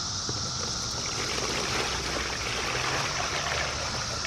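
Water mixed with water-soluble fertilizer is poured by the gallon into the top of a vertical garden, making a continuous splashing, trickling rush that runs steadily for several seconds.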